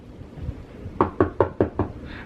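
Five sharp, evenly spaced knocks on a door, close and fairly loud, following a quiet moment.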